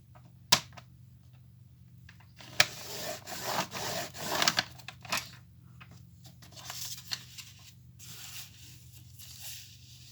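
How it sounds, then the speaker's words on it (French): A bone folder creases a paper page along a marked line, giving close scraping, rubbing strokes with a few sharp taps, loudest in the middle and fading toward the end. "je viens plier ma page au trait indiqué"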